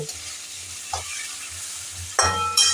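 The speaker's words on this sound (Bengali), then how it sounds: "সামান্য একটু জিরে আর ধনে একসঙ্গে মেশানো আছে ছোট চামচে এক চামচ দিয়ে দিলাম দিয়ে এটাকে সুন্দর করে একটু সাঁতলে নেব" Ground cumin and coriander sautéing in a pan, a soft steady sizzle with a few spoon scrapes and a louder hiss as the spices hit the oil, no talking.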